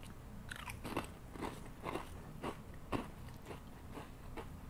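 Old Dutch ketchup potato chips are bitten and chewed close up, with a run of about eight sharp, evenly spaced crunches against a faint background.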